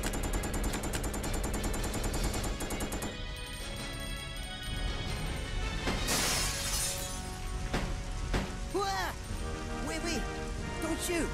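Gunshots in Resident Evil Code Veronica, sharp reports over a continuous game soundscape with crashing and shattering, loud and close, with someone talking over part of it.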